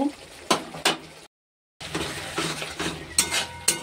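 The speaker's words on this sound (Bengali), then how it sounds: "মশলাটা ভালো করে কষে নেব।" Ground spices are stir-fried in a pan, with spatula strokes scraping and clinking at irregular intervals over a soft sizzle and a short silent gap midway.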